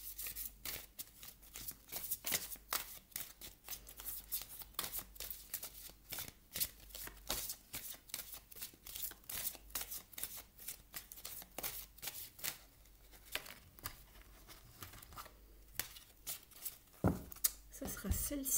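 Oracle cards from Alana Fairchild's Wisdom of the Wings deck being shuffled by hand, a quick, close run of papery riffles and flicks, with a voice speaking softly underneath.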